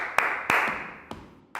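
Several sharp hand claps ring out one at a time with uneven gaps, each a crisp broadband snap with a short fading tail in a reverberant room.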